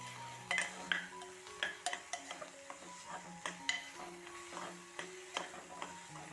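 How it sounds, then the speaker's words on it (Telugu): A utensil scrapes and clacks in a pan as boti (goat tripe) is stirred with ginger-garlic paste and turmeric, giving irregular close knocks and scrapes over a light background sizzle, with no talking. "ఇందులో కొంచెం అల్లం వెల్లిగడ్డ పేస్టు, కొంచెం పసుపు వేసుకొని కలుపుకోవాలి"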